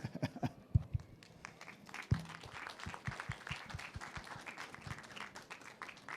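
An audience at a crypto identity and privacy talk in Paris claps after the presentation, scattered sharp claps rising into a steady patter of applause across a room, with some faint talk mixed in.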